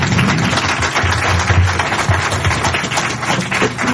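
Audience applause welcoming the poet Iftikhar Arif at a literary gathering, a dense, steady wash of clapping from a full room that holds for the whole span without any talk over it.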